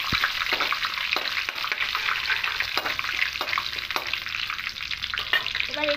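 Whole spices, cinnamon, cloves, cardamom and two bay leaves, stirred in hot oil in a pan for veg fried rice, a steady close sizzle with scraping stir strokes throughout.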